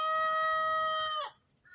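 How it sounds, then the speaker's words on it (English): A rooster crows close by, one long, loud, strained call that breaks off abruptly, followed by a faint trailing note. "That's one of my new roosters."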